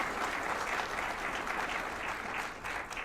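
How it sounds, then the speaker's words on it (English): A room full of people claps warmly, a dense, continuous round of applause throughout. "you all deserve a round of applause."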